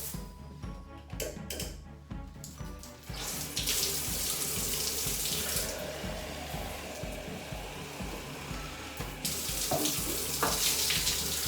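Running water rinses soap off a shower wall, a steady broad splashing rush with shifting intensity as the stream moves across the tiles, fairly close and without talk.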